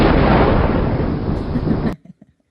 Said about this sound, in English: And a little bit of lightning.